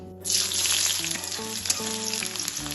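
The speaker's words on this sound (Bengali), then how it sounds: "এবার তেলের মধ্যে দিয়ে দিলাম পেঁয়াজ কুচি।" Chopped onion hitting hot oil seasoned with dried red chillies, for an egg and brinjal curry, bursts into a loud, steady sizzle that holds close and constant, with soft stirring underneath and no voices.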